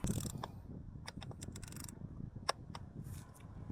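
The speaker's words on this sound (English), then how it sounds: "Put it on my hand and then just finishing off with the torque wrench" A torque wrench finishing off the oil drain bolt on a BMW R 1250 GS Adventure, a few sharp metallic clicks and ratcheting ticks close up over a low background rumble, no voices.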